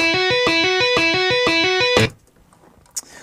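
Fast tapped electric guitar notes with hammer-ons cycle in a bright repeating pattern, loud and alone, then stop abruptly, followed by near silence and a brief soft knock.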